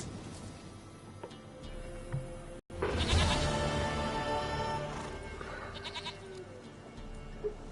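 A goat bleats in the Witcher 3 game world, a few wavering nasal cries standing out clearly over a quiet ambient bed, with no talk in the moment.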